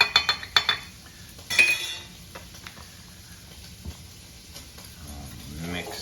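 Spoon clinks against a pan while heavy whipping cream is stirred into keto gravy: a quick cluster of metallic taps at the start, then soft scraping and occasional clinks at close range, with a voice speaking briefly.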